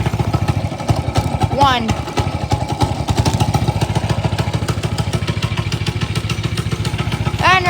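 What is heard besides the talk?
pull-starting a Doodlebug minibike engine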